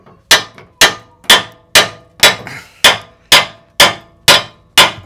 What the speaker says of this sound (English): just take the hammer, bang bang bang, open up that joint